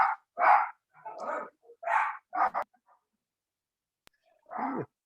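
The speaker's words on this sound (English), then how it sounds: "I'm very used to that bark" A dog barks indoors in a run of five or six sharp, close barks, then falls quiet before one final bark; no talk over it.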